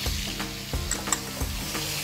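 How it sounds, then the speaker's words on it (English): Moroccan spiced chicken pieces sizzle in a pan with lemon juice, a steady close frying hiss punctuated by regular knocks of a utensil stirring and a couple of small metallic clinks, no voices. "now I'm going to cook it by adding lemon juice"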